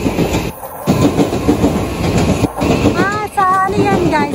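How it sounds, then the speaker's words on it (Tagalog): Romancecar express train bound for Hakone, Japan, rolling past with a steady rumbling clatter of wheels on rail, a brief squealing whine near the end, loud and close throughout. "Ang cute ng train."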